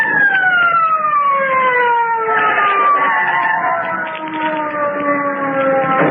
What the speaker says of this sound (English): Listen. Police car.